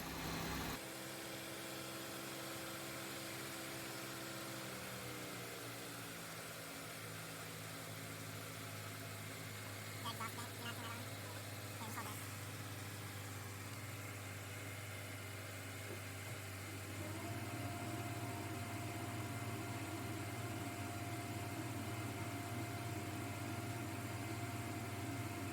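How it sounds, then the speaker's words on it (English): A 2007 Buick Lucerne engine idles as it warms up, a low, steady hum whose pitch eases down a few seconds in and later steps up slightly, continuous and without speech. "So as the engine's starting to warm up"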